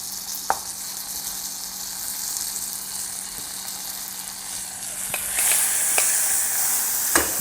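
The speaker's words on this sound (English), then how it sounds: "So in here we'll now also add our ginger and chilli." Ginger, chilli and seeds sizzle in a hot pan for a vegetarian pumpkin and coconut kitchari, a steady bright hiss with a few sharp pops and spits, growing louder toward the end.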